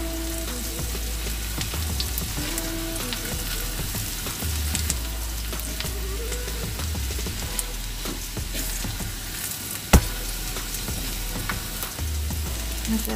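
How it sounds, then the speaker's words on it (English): Flour is stirred into a hot roux for a seafood gravy with shrimp and crawfish, a continuous close sizzle with soft scraping strokes and one sharp knock, steady and unbroken by any voice. "I'm going to add my 4 tablespoons of flour. And I'm going to mix this in a bit."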